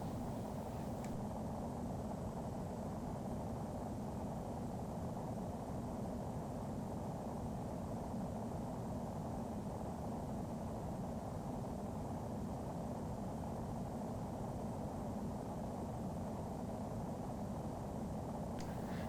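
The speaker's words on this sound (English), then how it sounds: "This aircraft is the Airbus A318 with full payload and full fuel." Airbus A318 engines at full payload and fuel roar steadily through a simulated take-off in FSX, a constant loud broadband rumble with a faint high whine, no voices.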